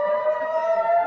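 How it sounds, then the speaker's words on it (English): Air raid sirens sound over Jerusalem during a rocket barrage, a loud, steady wailing tone holding one pitch throughout, with no voices. "Air sirens blasted across the city as another barrage of Hamas's rockets rained down."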